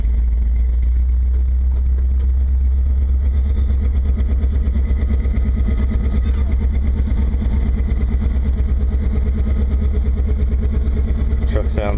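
A 1970 Ford Bronco 4x4 V8 with headers and dual exhaust idles steadily and loudly after starting, a low rumbling drone close by with no pauses.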